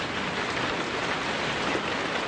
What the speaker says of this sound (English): the heavens suddenly open